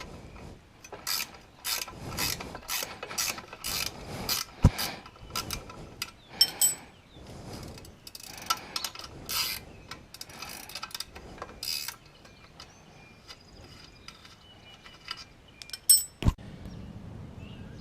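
A ratchet wrench clicks steadily on a 13 mm nut on the adjustable pedal bolt of a 2004 Ford Expedition, the rapid pawl clicks close and repeating in quick bursts, with metallic taps and handling noises between strokes.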